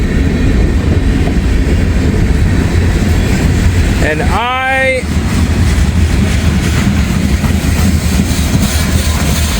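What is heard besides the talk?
end of a passing train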